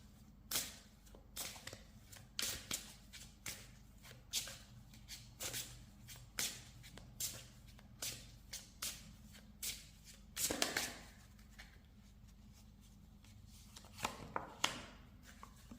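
Tarot cards being shuffled and laid out: a steady run of soft, close riffling snaps and slaps at irregular intervals against a quiet, hushed room.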